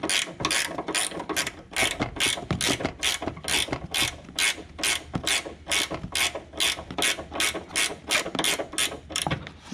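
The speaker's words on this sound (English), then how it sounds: "you can probably go ahead and take a 5/8 ratchet wrench and loosen them all the way off" Ratchet wrench spinning nuts off a 2013 Ford Explorer front strut, a close, steady run of quick repeated clicking bursts with no speech.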